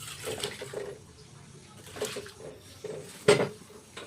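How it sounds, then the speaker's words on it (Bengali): Liquid poured into a bowl in a home kitchen, a close splashing pour in a few uneven bursts that ends with a sharp clatter against the vessel. "এবার আমি এটাকে ঢেলে দিচ্ছি এই গামলায়"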